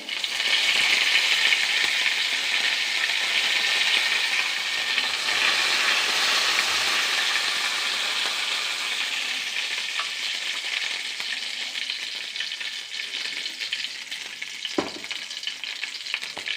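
Curry leaves fry in hot oil in a pan for a pickled mango curry, giving a loud, steady crackling sizzle that slowly settles, with a brief clink near the end.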